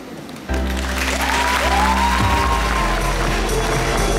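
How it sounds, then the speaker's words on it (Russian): An audience at the Miss Belarus 2021 pageant applauds and cheers the newly crowned winner. A sudden loud burst of clapping and crowd noise swells under music and holds steady. "Так не аплодируют новой мисс Беларусь!"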